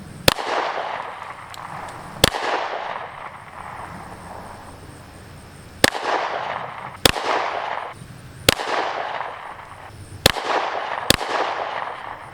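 Shots from a PSA Dagger pistol at a range, a magazine's worth fired singly with irregular gaps, each crack sharp and loud with a ringing tail, no talking.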